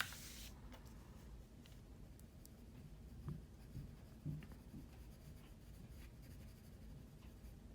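A pencil shades on paper while a nose is drawn, a soft, steady scratchy hiss with a few slightly louder strokes, very quiet and close with no talking.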